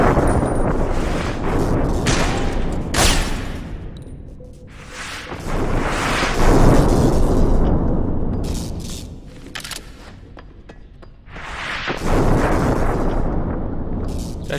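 Gunfire and explosions in a World War I shooter game, with heavy booming blasts and dense bursts of shots rolling on continuously at close, loud level.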